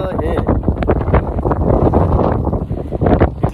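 Strong sea wind buffeting the microphone during a boat ride off South Goa, a loud continuous roar and rumble with gusty swells, alongside boat noise and occasional voices.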